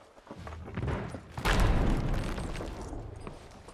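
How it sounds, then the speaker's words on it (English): Cannon fire in a video game, a deep boom landing midway through a rumbling, noisy mix of in-game sounds. "Ooh, boy, they have cannons, though."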